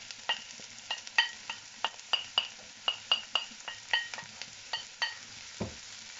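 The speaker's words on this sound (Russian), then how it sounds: "Добавляем нашу морковку в этот лучок" Carrots and onions sizzle softly in a pan while a utensil stirs and scrapes, making a series of regular clinking taps against the metal.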